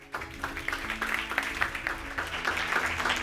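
A seated audience applauds at a book presentation in Madrid for the title "Crisis. Transformación. Evolución". The clapping is dense and steady, fairly close, and holds for a few seconds.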